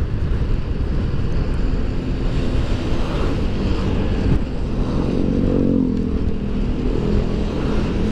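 A motorcycle rides just ahead on a wet, bumpy road near the Bandung–Cianjur border, its engine blending into a steady roar of tyre spray, wind buffeting and passing traffic heard from a following vehicle.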